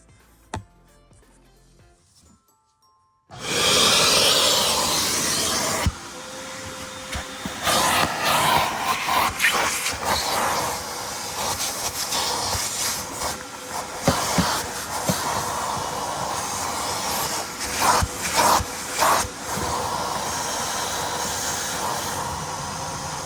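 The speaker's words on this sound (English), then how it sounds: "I'll vacuum the housing and inside the car before I put the new ones." A vacuum cleaner cleans the cabin air filter housing and interior of a 2005-2011 Audi A6 (C6). After about three seconds of near silence it starts with a loud, steady rushing roar that shifts and pulses as the nozzle moves.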